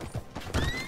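A horse in the video game Red Dead Redemption 2 gives a brief whinny over soft hoof and tack sounds, close and short.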